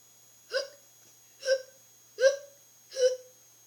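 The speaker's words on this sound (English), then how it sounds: "I'm gonna help you get better from the hiccups." Four sharp hiccups come close and loud at a steady rhythm, each a brief voiced catch separated by quiet.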